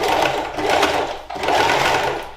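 A sewing machine stitches a line along a fold of oilcloth for a tote bag, running in two steady, close bursts with a brief break in the middle.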